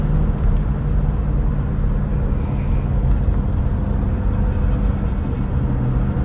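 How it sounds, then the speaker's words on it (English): A 1965 Chevrolet Corvette's engine pulls steadily at part throttle, a loud, continuous low drone heard from inside the car with no talk. "Just picks up, just that part throttle. Picks up and accelerates nice."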